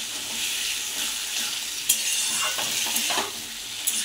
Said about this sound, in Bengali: 1-2 মিনিট একটু ভেজে নেব।